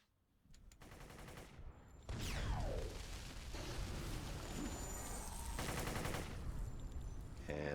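Rapid gunfire from shooting enemies in City of Heroes, sustained bursts over a busy, layered game soundscape that stays fairly loud throughout.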